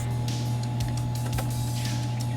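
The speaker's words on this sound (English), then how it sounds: "you can hear a compressor, but way less than a fridge" A countertop nugget ice maker's compressor runs close by with a steady low hum and a constant mechanical drone, unbroken throughout.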